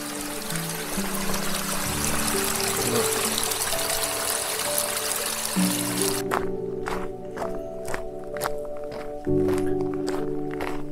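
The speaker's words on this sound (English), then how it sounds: "And water is flowing from the pipe here." Water pours steadily from a pipe on a cliff hike above Los Gigantes, Tenerife, as a continuous close rushing hiss that cuts off partway through, leaving quieter scattered clicks and knocks.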